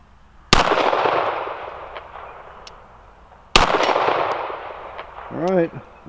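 Two sharp, loud gunshots from a Smith & Wesson 5906 PPC 9mm pistol with a 6-inch barrel, spaced about three seconds apart, each followed by a ringing decay outdoors on a range.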